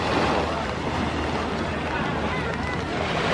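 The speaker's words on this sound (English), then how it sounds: "Lots of boats" Boats motor across the rainy sea off Phuket, a broad steady wash of engine drone, waves and wind buffeting the microphone, with no pauses.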